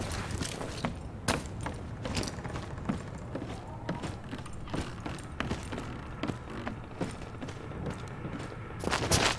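Video game gunfire: a series of sharp shots and bursts, irregularly spaced, over a low ambient background.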